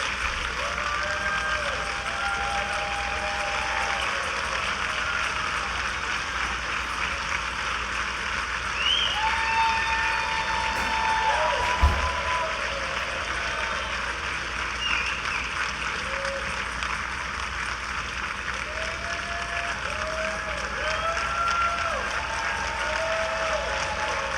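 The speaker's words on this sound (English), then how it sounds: "Can we just give a round of applause for our pastor once again?" Sustained applause from a church congregation honoring their senior pastor, a steady wash of clapping that holds evenly throughout with faint voices and a few calls rising above it.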